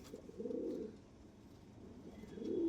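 Chennai pigeons kept at a pigeon sale give soft, low, throaty coos in two drawn-out bursts, close and quiet, with no voices over them.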